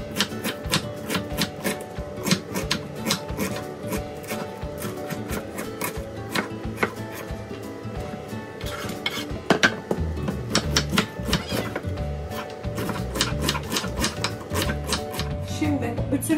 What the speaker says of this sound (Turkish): Şimdi bütün lahanayı doğradık.